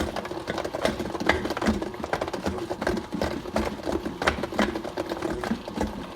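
A Vitamix blender works through frozen strawberries, giving a close, rattling, clattering grind with uneven knocks as the hard fruit chunks tumble against the blades, with no talk.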